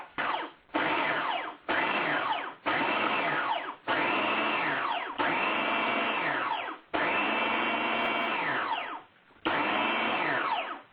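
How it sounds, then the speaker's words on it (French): A food processor whirs loudly for about eleven seconds, blending cake with its crusts removed into fine crumbs for cake pops, running in a series of bursts with brief pauses between pulses. "On va zapper ça au robot."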